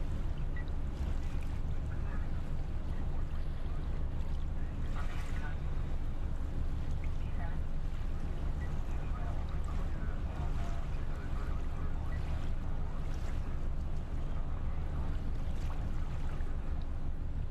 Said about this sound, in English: Now we're just cruising backwards.